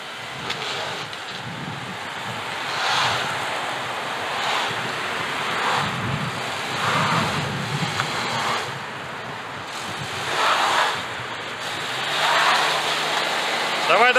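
A car's engine is held at high revs during an off-road all-wheel-drive test with ESP on, surging in repeated swells beneath heavy wind buffeting, with voices faintly present.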